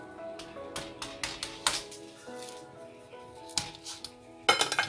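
Clinks and taps of a plate and utensils as homemade Turkish pizza topped with minced meat and cheese is set down, a run of close, sharp knocks ending in a louder clatter.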